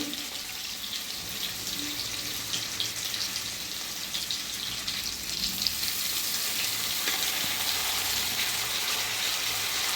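Potatoes and banana flower sizzle and crackle in a hot pan, a continuous close frying hiss that grows slightly louder midway.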